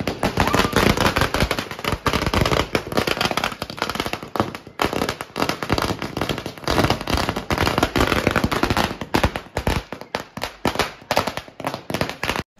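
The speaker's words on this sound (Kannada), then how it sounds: "ಪಟಪಟ ಅಂತ ಪಟಾಕಿ ಹೊಡೆಯೋ ಸದ್ದು" Rapid, crackling bursts of firecrackers going off continuously after a puja at an office inauguration, loud and dense, with sharp pops piling over one another.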